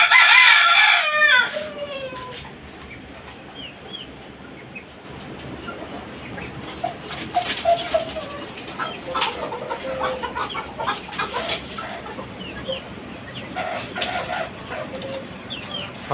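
Chickens and roosters on a small farm: a loud rooster crow opens, followed by a steady backdrop of scattered clucks and calls from the flock at moderate distance, with no talking.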